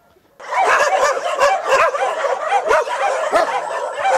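Several dogs in a village street bark, yip and whine together, loud and close, in a continuous overlapping chorus that starts abruptly after a brief quiet.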